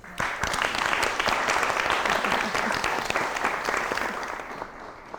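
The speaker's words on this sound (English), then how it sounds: "let's give a round of applause to both of our nominees, Dr. Charles Engel and Dr. Richard Freeman." A dense, sustained round of applause from a sizable audience at an award presentation for two nominees, steady and loud for several seconds before tapering slightly.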